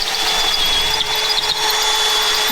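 A power drill drilling out bolts on a fire-damaged Jeep whines loudly and continuously at a steady high pitch, running close by without pause for the whole stretch.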